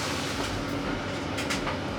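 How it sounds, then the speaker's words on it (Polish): A tumble dryer runs at home with a steady, dense whooshing rumble and faint rhythmic tumbling, loud and constant throughout with no talk over it. "Sorry, ale szumi mi akurat suszarka."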